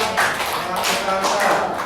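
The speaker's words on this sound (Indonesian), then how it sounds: "tepuk tangan semuanya" Schoolchildren in a classroom clapping for a classmate's presentation, a quick uneven spatter of claps rising and falling in several bursts, close and fairly loud.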